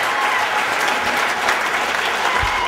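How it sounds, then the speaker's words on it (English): Dense, steady applause from an audience at a Harlem oral history evening at the Museum of the City of New York, honoring Kareem Abdul-Jabbar, sustained without pause. "a big round of applause for Kareem Abdul Jabbar"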